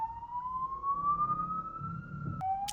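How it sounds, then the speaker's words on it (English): An ambulance siren near the Basin Reserve in Wellington, New Zealand, wails steadily, rising slowly in pitch as it draws near, then drops abruptly as it passes, over a low rumble of traffic. "and then we got an ambulance."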